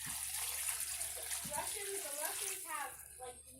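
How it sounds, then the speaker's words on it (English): Six cups of beef broth pour into a slow cooker in a home kitchen as a steady, splashing liquid stream, fairly soft and close, with a faint voice murmuring toward the end. "Then I'm going to top it off with 6 cups of beef broth."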